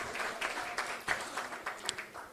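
An audience at a political forum on the progressive horizon claps in a fairly faint, uneven round of applause, with individual sharp claps standing out against the thinner crowd.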